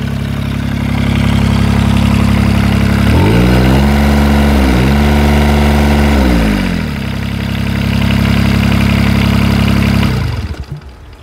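A new Kubota D662 diesel engine runs loud and close, with a steady idle that revs up and then settles back down. It cuts off near the end, and there is no talk.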